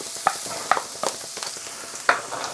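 Ginger hits hot oil in a wok, a continuous close sizzle broken by several light taps and stirring scrapes.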